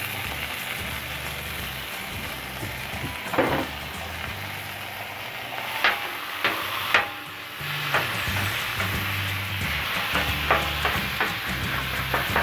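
Meat browning on a Blackstone griddle gives a steady, fairly loud sizzle and crackle throughout, with occasional scrapes and clinks of a spatula on the flat top.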